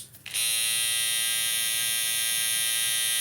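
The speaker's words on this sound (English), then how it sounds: "trimmer sounds good. Trimmer sounds powerful." A small electric hair trimmer motor switches on and settles into a steady, high-pitched buzzing hum, close and continuous.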